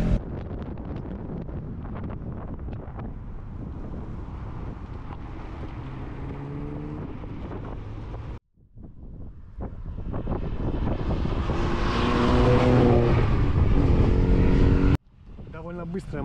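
An Alfa Romeo Giulia 1300 TI drives by with a revving engine, a steady drone that cuts out, then builds louder with rising tones before a sudden stop; wind buffets the microphone.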